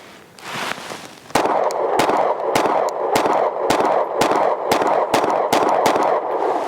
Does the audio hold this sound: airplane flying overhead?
no